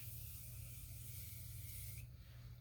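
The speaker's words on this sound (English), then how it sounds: "I think I'm going to use the Tarte spray, even though I don't really need a lot." A steady two-second hiss of Tarte setting spray misted from a close bottle, then cutting off sharply, with a low hum underneath.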